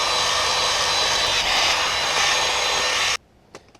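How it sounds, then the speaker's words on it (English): Wire wheel on a power tool scrubbing rust and grease off a brake on a micro camper build, a loud steady whirring grind that stops abruptly, followed by faint clicks. "Once I'd finished wire wheeling"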